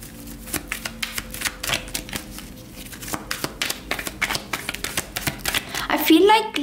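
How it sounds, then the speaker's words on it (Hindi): Tarot cards shuffled by hand in a steady run of crisp riffling taps, fairly close and moderately loud, with a soft voice faintly under them. "ठीक है, तो चलिए शफल कर लेते हैं।"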